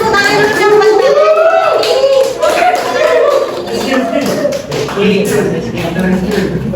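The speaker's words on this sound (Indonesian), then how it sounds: "Kasih tepuk tangan dulu dong buat Mbak Anis." A small group of students claps during a microteaching lesson in a classroom, with light, uneven claps mixed with voices and chatter.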